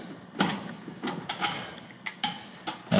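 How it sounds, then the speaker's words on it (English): Screws are tightened on the tensioner strain relief of an electric range power cord, giving a few close, sharp clicks and scraping ratchet-like turns spaced irregularly over a quiet background. "And then just tighten down the screws on the tensioner relief."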